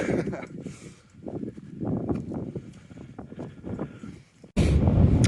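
Gusty wind buffets the microphone on a hilltop near Todmorden in irregular low rumbling bursts, then swells into a loud, steady roar at the end.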